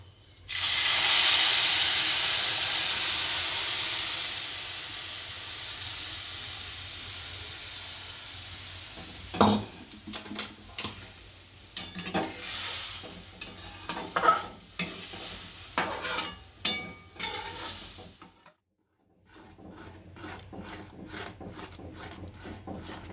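Milk poured onto vermicelli fried in ghee, then stirred for seviyan kheer: a loud hiss and sizzle that fades, followed by repeated scraping and stirring strokes against the pan and one brief quiet pause near the end.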